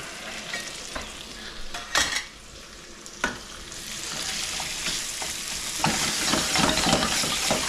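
Pork sizzles and fries in a pan with lemon zest and rosemary, a steady crackle broken by a few sharp stirring scrapes and rising slightly louder toward the end, with no voices.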